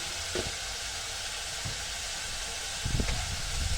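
Coriander tasha frying in hot oil for okra and molokhia, a steady broadband sizzle throughout with brief louder bursts near the end as the pan is worked; no talking.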